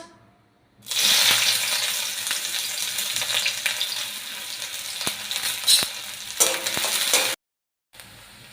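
Chopped onion hits hot oil in a wok and sizzles loudly and steadily for about six seconds. The sizzle cuts off abruptly, then returns faintly after a short gap.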